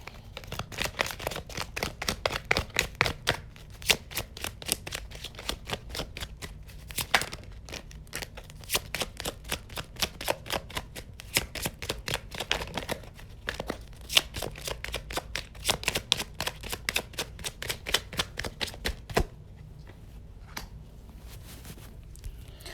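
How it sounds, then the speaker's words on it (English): Tarot cards shuffled by hand in quick, rapid riffling bursts with brief pauses between rounds, close and clear, fading to quiet near the end as a card is pulled. "I'm going to pull another card so I can get a clearer look at this."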